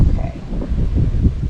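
Wind gusts buffet an outdoor cheese smoker fire as it catches, producing a steady, close, low rumbling roar that swells and dips across the whole short stretch with no voices.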